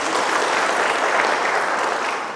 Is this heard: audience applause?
yes